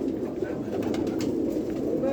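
Soft, throaty cooing from a large flock of pigeons at a pigeon loft blends into a continuous murmuring drone, close and steady throughout.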